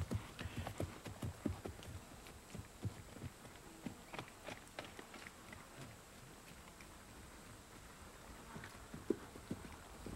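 Hoofbeats of an Australian stock horse mare doing limbering-up exercises under a rider, a quiet, fairly regular clip-clop of hooves on the ground with a steady rhythmic pattern, recorded at moderate distance and otherwise calm.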